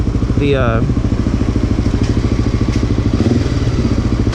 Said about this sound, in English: I don't have the silencer tip in, and it's really loud, but not like insane loud, but it's pretty obnoxious